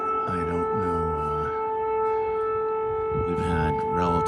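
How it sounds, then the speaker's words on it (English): Wailing air raid sirens in Kyiv, Ukraine, at dawn rise and fall in long tones, heard alongside a steady high drone, with a pause in the middle before they resume. "All right, we got sirens going again."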